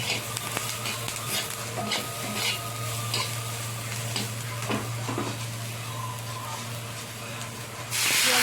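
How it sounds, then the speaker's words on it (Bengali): Steady sizzling of onions frying in a pan, with scraping stir strokes throughout and a louder hiss surging near the end; a low steady hum runs underneath. "পেঁয়াজটাও আমার ভালো ভাজা হয়ে এসছে"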